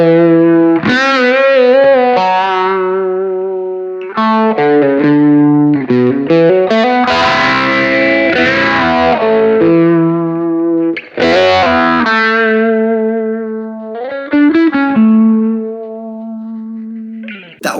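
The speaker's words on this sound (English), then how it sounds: "If you turn the boost side of the pedal off, you get a really nice phased, cleaner lead sound" Electric guitar runs through an MXR Phase 90 phaser for a cleaner lead tone. Melodic runs and sustained bends carry a sweeping phase, loud and upfront, with no voices.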